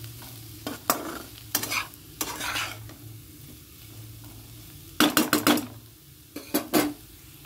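Food frying in a pan at a Chhath Puja home kitchen, heard as clusters of close spatula scrapes and clatters against the pan, with quieter stretches between bursts and no talk.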